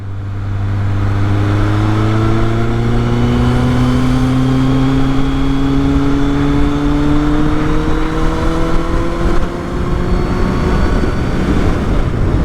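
Kawasaki Z800 motorcycle engine fitted with a DB killer, revving loud and close with a steady, rising drone that climbs slowly in pitch over several seconds.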